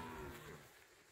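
A herd of cows with calves lows at a corral during a cattle drive, with one drawn-out moo sliding downward, heard close and fairly loud over a dense background.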